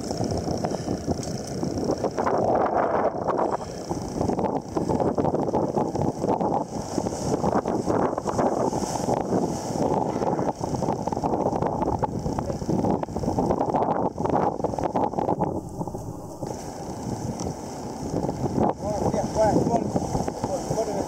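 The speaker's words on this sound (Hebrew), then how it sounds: "ים סוער בצורה בלתי רגילה." An unusually stormy sea heard from aboard a boat: wind buffets the microphone with loud, continuous rushing and churning water, under intermittent talk.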